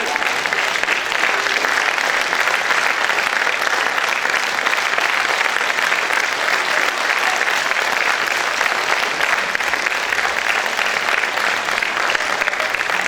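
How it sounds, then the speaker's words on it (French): Dense, sustained applause from a theatre audience at a charity variety show in the Casino de Dieppe, loud and steady throughout with no voices over it. "Applaudissez-le"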